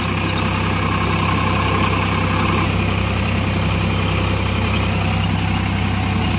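A tractor engine runs steadily with a Vasundhara super reaper attached, a loud, constant low rumble that goes on without a break and with no talk over it.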